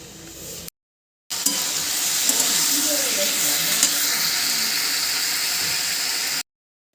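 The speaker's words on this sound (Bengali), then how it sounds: "আমার কুমড়ো ভাজা হয়ে গেছে" Pumpkin frying in a pan gives a steady, close hiss and sizzle with a few faint clinks of stirring, cut short at the start and ending abruptly.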